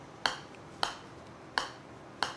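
A TaylorMade Tour Response golf ball struck softly with a putter, four light, crisp ticks spaced about two-thirds of a second apart, close up over a quiet background.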